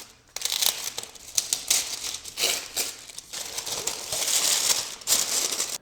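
Crisp paper crinkling and rustling as wrapping is pulled off a Bitmap Books NEOGEO A Visual History book, in close, uneven bursts with brief pauses and no talking.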